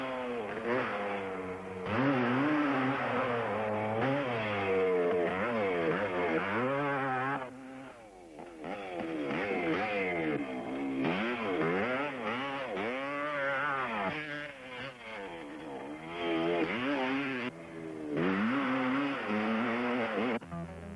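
A motorcycle engine revs up and eases off again and again as the throttle is opened and closed, its pitch climbing and falling in waves, close and fairly loud, with no voices.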